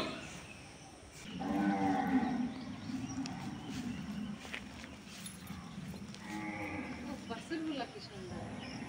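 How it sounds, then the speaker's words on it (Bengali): Cattle at a government cattle farm in Rajshahi, with small calves among them, low mooing that rises twice over a barn murmur, fairly close, with faint hoof clops between calls. "এগুলো একবারে ছোট বাছুর"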